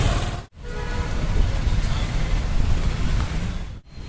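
A Hyderabad metro train runs on an elevated track above a road highway, a continuous rumbling roar with traffic-like wash, broken by two brief dips.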